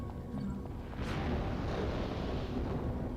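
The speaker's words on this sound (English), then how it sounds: "An electric grenade." An electric grenade detonates in Devil May Cry, a sudden crackling burst about a second in that swells into a sustained rumbling roar with no voices over it.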